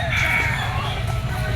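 Rooster crowing at an outdoor pet market where gamefowl are sold, a sustained crow over a steady background din of the market.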